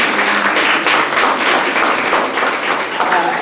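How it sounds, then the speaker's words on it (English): An audience at an academic talk gives a round of applause, a dense, fairly loud patter of many hands clapping steadily throughout. "We give her a round of applause."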